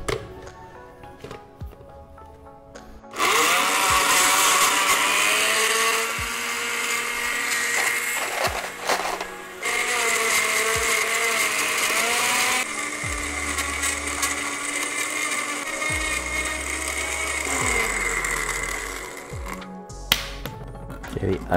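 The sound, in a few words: blender crushing ice for a banana-grape daiquiri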